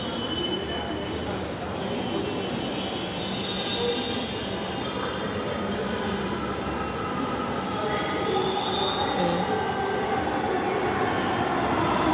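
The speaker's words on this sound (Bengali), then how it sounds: "ট্রেন আসতেছে।" A metro train rumbles in with high, squealing wheels and a steady roar, fairly close, while faint voices murmur in the background.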